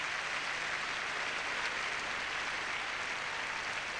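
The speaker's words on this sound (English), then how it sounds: "Still the applause rains down." Sustained applause fills an arena after a pairs figure skating short program at the 1989 World Championships, a steady wash of clapping with no breaks.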